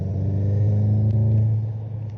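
A modded 2021 Volkswagen GTI exhaust held at about 3,500 RPM, a steady, loud, deep droning rumble close by with no talking over it.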